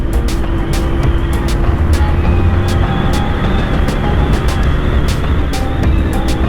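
Honda CBR150 motorcycle engine pulling hard through the gears, a loud steady roar with wind rush and periodic sharp clicks as it shifts, heard up close without talk.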